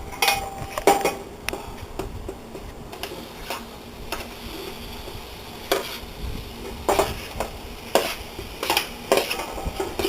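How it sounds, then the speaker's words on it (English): Meat being stirred in a pot for brown jambalaya, with soft sizzling and intermittent clinks and scrapes of a utensil against the pot, close and fairly quiet. "I'm going to add the meat, and then I'm going to season it"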